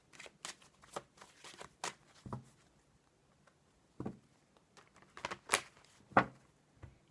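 A mirror oracle card deck is shuffled by hand in soft, close bursts of riffling and flicking taps, with brief pauses between.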